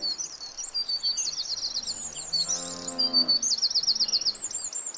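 A single drawn-out cow moo, mid-distance, lasting under a second, set against a constant backdrop of chirping birdsong.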